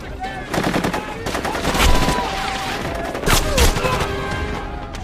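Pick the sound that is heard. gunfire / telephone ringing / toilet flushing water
gunfire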